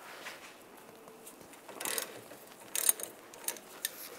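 Ratchet with a 16 mm socket loosening the top sway bar link bolt on a 1999-2005 Volkswagen Jetta, soft quick clicking bursts of the pawl with small metallic knocks, close and quiet.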